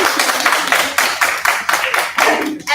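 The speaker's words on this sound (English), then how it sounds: "let's give her a clap." Children and staff clapping at a school assembly, a short burst of brisk, loud, rhythmic claps lasting a few seconds and fading out at the end.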